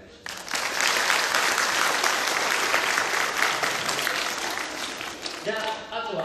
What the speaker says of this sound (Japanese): 高橋さんにも大きな拍手をお願いします